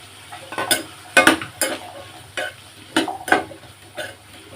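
Boiled chickpeas (channa) stirred into frying masala in a pan: a series of distinct spoon scrapes and knocks at an uneven pace, over a soft, continuous sizzle.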